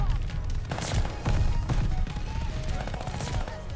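Rapid bursts of Armaguerra 43 submachine gun fire in a first-person shooter game, close and sharp, repeating in quick volleys amid distant battle booms.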